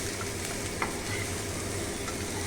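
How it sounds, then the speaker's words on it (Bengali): Chopped carrots are stirred in a hot frying pan, a steady close sizzle with light scraping and spatula taps running continuously, no voices. "দিয়ে দিলাম কুচানো গাজর, দিয়েও একটু ভালো করে নেড়ে চেড়ে নিচ্ছি"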